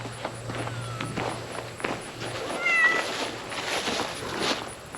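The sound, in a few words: cat meowing in workshop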